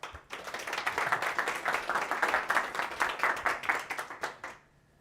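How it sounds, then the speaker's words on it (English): Audience applause at a Papers We Love Milano talk, a steady burst of many hands clapping close and fairly loud for about four seconds before cutting off abruptly into quiet. "let's give a round of applause for our speaker"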